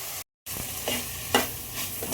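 Sliced onions with salt sautéing in a pan for an egg roast, a steady close sizzle broken by several scraping stirs of the spoon and one brief dropout, with no talking.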